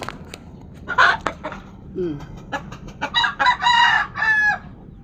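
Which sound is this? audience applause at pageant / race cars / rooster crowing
rooster crowing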